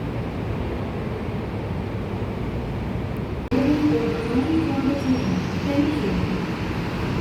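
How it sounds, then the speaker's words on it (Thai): A Yellow Line metro train rumbles steadily through Samrong station while switching tracks, then the sound shifts abruptly as the rumble grows louder, with faint squealing tones from the wheels on the rails. "มาดูรถไฟฟ้าสายสีเหลืองสับรางกัน แสดงว่าตอนนี้กำลังจะมีรถเข้ามาในสถานีสำโรงค่ะ"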